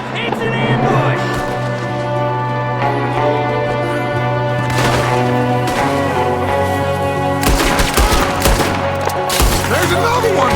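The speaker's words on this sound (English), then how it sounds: "There's another one shooting from the window!" Rapid gunfire in an ambush in the video game Red Dead Redemption 2, loud overlapping shots and bursts over a sustained music bed, with voices shouting amid the shooting.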